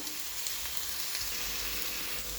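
Onion, tomato and radish sautéing in a pan for radish chutney, a dense continuous close sizzle with faint crackles throughout, no voices.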